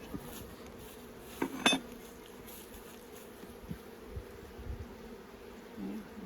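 Carpathian and Buckfast honeybees humming during a hive inspection, a low steady buzz with a brief sharp clatter of frame or hive tool, faint and close.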